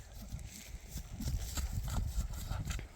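A horse being ridden clip-clops on the ground in a brisk, close run of hoofbeats, with faint background voices and no clear speech.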